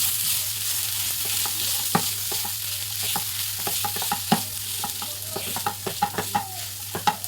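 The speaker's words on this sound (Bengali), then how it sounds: "গ্যাসটা কম করে দেবো। ভালো করে এটা মিশিয়ে নেব।" A potato mixture is stirred in a pan over low gas, with a steady frying hiss under a run of spoon scrapes and taps that get quicker toward the end. The sounds are close and no one speaks.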